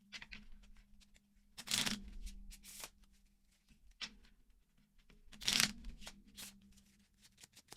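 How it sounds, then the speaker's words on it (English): Tarot cards are shuffled in quiet bursts, two main riffling flurries with lighter taps and slides between them, close and soft over a faint background hum. "as I shuffle, I'm just going to pull them back to back"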